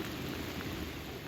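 Heavy rain pours down outdoors on a farm where ostriches are kept, a dense, unbroken roar of water on surfaces with a low rumbling underneath.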